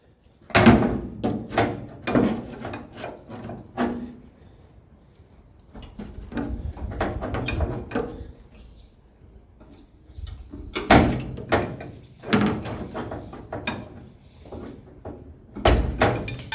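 Vice grips clamped onto a rusty vehicle door panel with angle iron backing it, tugged to pull out a dent: irregular metallic thunks, clanks and rattles in uneven bursts with quiet gaps between.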